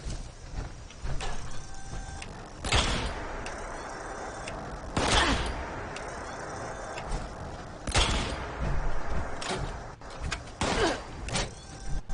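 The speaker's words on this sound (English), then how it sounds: "I'm pulling out my Gauss rifle now." A Gauss rifle fires in Fallout 76, with several sharp, loud discharges spaced a few seconds apart. Each shot has a charged electronic snap and a short tail, and between shots there is quieter game ambience with no talking.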